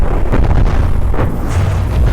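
A particle cannon hit explodes in the From the Depths vehicle combat game, a dense, loud, rumbling boom with low-end weight that rolls on for about two seconds without speech.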